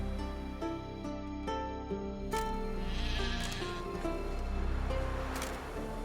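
Sheep in The Witcher 3 bleat a few times over a steady game music bed and ambient wash, the bleats moderately near and mixed with tonal background sound.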